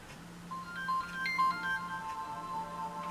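A phone ringtone plays as a soft melodic electronic tune of short repeating notes, faint and steady over a low background hum.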